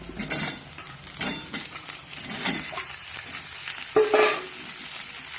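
Potatoes and eggplant go into a pan of browned, fried onions, bringing bursts of sizzling and frying with scraping stirs and clinks of utensil against the pan, fairly close and without talk.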